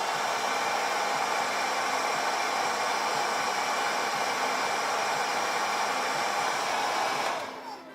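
Heat tool blowing a steady loud rush of hot air over a freshly painted anime garage kit model, continuous at close range before cutting off near the end.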